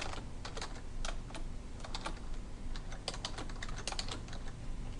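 Rapid, irregular clicking of keys on a computer keyboard as text is entered into a spreadsheet cell, close and steady with short bursts of keystrokes and no talking.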